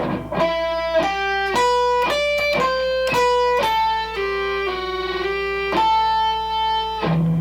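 A melodic electric guitar lick from a song's solo: sustained single notes and slides, played alone at steady volume with a clean, slightly effected tone.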